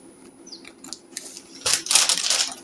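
Scissors snip through fabric for a sleeve, a few soft close cuts ending in a louder burst of rustling and slicing.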